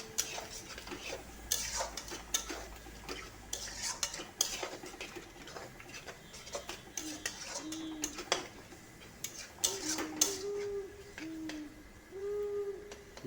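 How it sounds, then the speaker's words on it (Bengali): Spices being stirred and fried in a pan for a home-style prawn and potato curry, with a spoon or spatula scraping and clinking against the metal in a steady run of close, light taps and sizzle. "এটাকে কষতে থাকবো"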